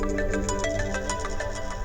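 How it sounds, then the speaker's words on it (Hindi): A phone ringtone plays a steady, melodic electronic tune, continuous and moderately loud, with no voices. "पापा का फोन आया है"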